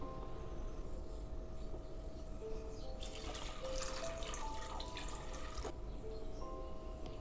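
Water is poured into a pot of rinsed red lentils, giving a faint, steady trickle against a constant low hum of kitchen background.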